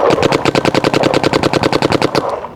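Paintball marker fired in a fast, steady burst of roughly two dozen sharp, evenly spaced shots at a tournament, loud and close, with no talk over it.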